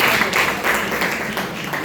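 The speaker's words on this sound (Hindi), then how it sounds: "मिस मुस्कान की ताली हो जाए" Audience clapping for a participant in a classroom question session, a short burst of many hands applauding, fairly loud and close, with no talk over it.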